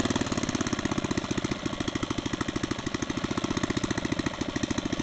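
David Bradley walk-behind tractor with a small single-cylinder engine idling, a fast, steady putt-putt pulse close by and fairly even throughout, with no talking.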